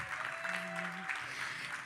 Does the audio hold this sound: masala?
no